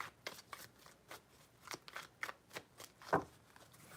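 A deck of tarot cards is shuffled in a series of quick, crisp riffling bursts, roughly a dozen short papery flutters at uneven intervals, close and fairly quiet with no talk over them.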